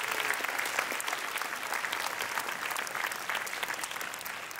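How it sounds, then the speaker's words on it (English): Steady, dense applause from a large crowd at a primary school sports awards ceremony in Bangkok, many hands clapping continuously at an even level throughout. "Can we have a massive round of applause for the students so far?"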